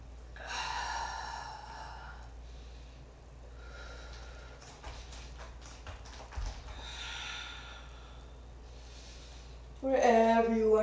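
Deep breathing during a yoga flow: several slow, audible breaths, inhales and long exhales rising and falling close by, and a brief louder noise at the end.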